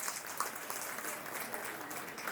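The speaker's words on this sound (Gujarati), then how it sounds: "એક જોરદાર તાળી થઈ જાય" An audience at a speech event gives steady, fairly faint applause, heard as a dense even patter of many hands clapping from a distance.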